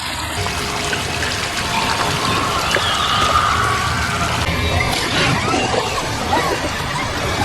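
Water running and trickling from a bathtub tap, a steady close wash of flowing water that shifts slightly in tone partway through.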